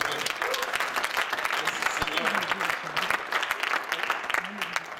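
A church congregation claps continuously and fairly loudly in a dense, steady roar of hands, with voices calling out and cheering mixed through the applause.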